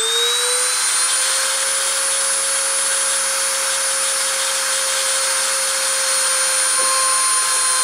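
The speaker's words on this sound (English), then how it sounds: "I'm going to start up the spindle and try the deposition" A high-speed spindle spinning at 30,000 RPM gives a steady, loud, high whine with a sustained tone that rises as it spins up in the first second, then holds even throughout.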